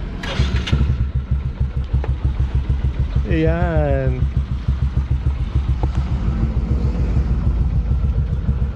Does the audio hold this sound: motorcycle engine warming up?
yes